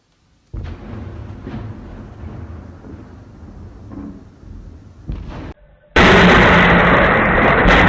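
Explosions from a drone attack on Russian territory thunder in a low, rumbling roar for several seconds. After a brief dip, a much louder, harsh blast of noise follows and holds to the end.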